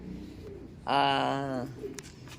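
A single racing pigeon coos once, a rolling low call up close over faint background noise, then it goes quiet.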